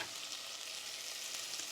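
Garlic frying with red onion in a pan, a close, continuous sizzle with no pauses and no talk.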